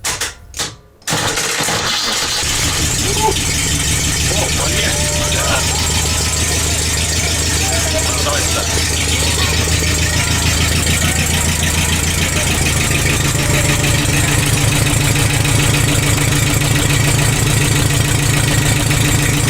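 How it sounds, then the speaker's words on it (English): An old barn-find car engine, out of the car, cranks briefly on its first run, then catches and settles into a loud, steady idle with a rough, knocking rumble that continues throughout. "This engine is in the same condition as it was in the car. And this is the first run."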